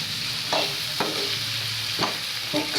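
Masala stirred and sautéed in a pan, with a steady close sizzle and a few sharp spoon scrapes and clicks against the pan at irregular intervals.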